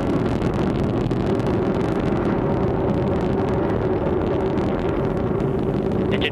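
An Atlas rocket climbing through its launch flight gives a steady, dense roar that holds evenly throughout, with a windy, rumbling texture and no voices.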